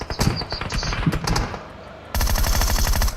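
Automatic gunfire in PUBG Mobile: scattered shots and game effects, then a loud, dense burst of rapid fire through the final second.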